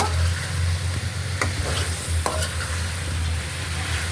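Tomatoes fry in a fish curry with potatoes and flat beans, a constant close sizzle over a low hum while a utensil stirs, with a couple of crisp scrapes along the pan.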